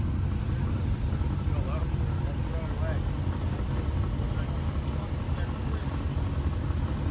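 A 400-horsepower ethanol-fuelled Volkswagen engine at a car show runs with a steady, loud rumble, heard close up amid crowd noise and a talking voice.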